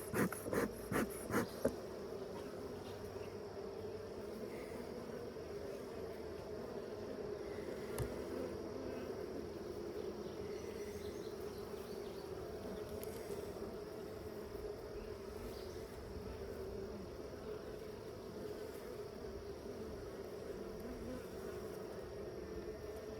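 A steady, dense swarm of honey bees buzzes around an opened Layens hive during an inspection with smoke, a continuous near drone holding for the whole stretch after a few sharp knocks at the start.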